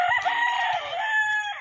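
Rooster crowing loudly and close, a single long drawn-out cock-a-doodle-doo lasting over a second, with faint clucking beneath from nearby fowl.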